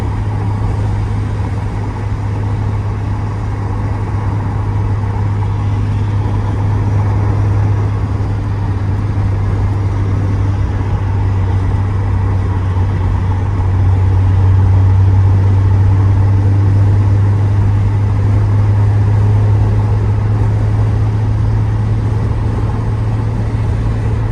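Steady, loud engine drone and road roar from inside a 1990 Porsche 944 S2 Cabriolet with a 5-speed, cruising on the highway in fifth gear at about 3,400 RPM and 75 mph, continuous and unbroken throughout.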